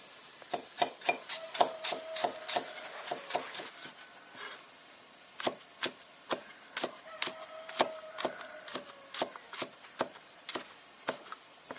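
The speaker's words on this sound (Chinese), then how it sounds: "切点生姜、大蒜泡椒" A knife chops ginger, garlic and pickled peppers on a wooden board in quick irregular bursts of close, crisp taps with a short pause midway, quiet overall with faint tonal background and no speech.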